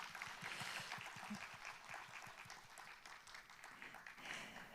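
Audience applause at the 2024 Gyeongbuk Bio Industry Expo ceremony, a dense, steady wash of many hands clapping together at moderate distance, sustained evenly throughout with no talking over it.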